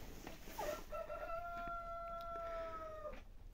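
Brahma chickens from a flock hit by a sickness, one rooster giving a single long, clear crow held for about two seconds, with faint background clucking and rustle around it.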